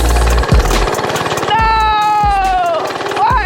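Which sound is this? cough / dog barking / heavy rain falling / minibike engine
minibike engine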